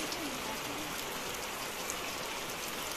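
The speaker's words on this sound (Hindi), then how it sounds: "देखिए कितना बड़ा बड़ा बारिश हो रहा है।" Steady, dense downpour hisses continuously, a heavy rain pounding surfaces with no breaks.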